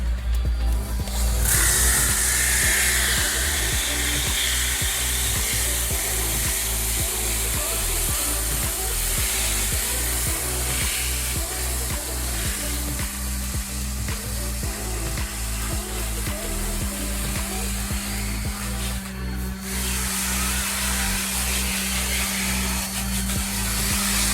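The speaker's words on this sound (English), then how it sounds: "We got a 40 grit, which is just gonna rip through, clean it up." A power sander with 40-grit paper strips old finish from wooden deck boards, whirring loudly and continuously up close with a gritty, rhythmic scraping under the motor.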